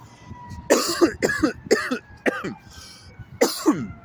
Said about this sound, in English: that's that after effect cough